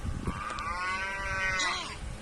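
A recorded cow moo plays from a small electronic toy tablet, a single drawn-out tonal low, slightly tinny, with faint background noise.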